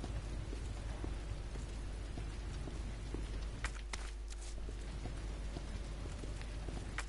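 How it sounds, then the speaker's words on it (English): Rain falling in the video game Resident Evil 2, a faint, steady hiss of rainfall that continues evenly for the whole stretch without pauses. "Oh, it's raining."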